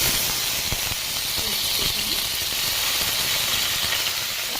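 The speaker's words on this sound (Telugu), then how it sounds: "ఇదండి కరివేపాకు వేస్తున్నాను కొంచెం" Curry leaves dropped into hot oil for potato rice, a steady loud hiss and sizzle that fills the whole span without a break.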